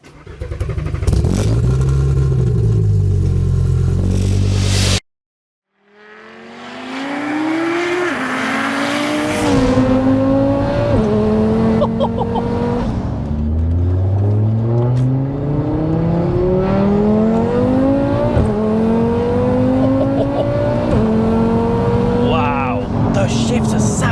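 A loud, tuned 800 bhp fully built Audi RS3 8P engine starts up after a brief pause, then revs repeatedly, pitch climbing and falling with punchy, aggressive throttle blips close by.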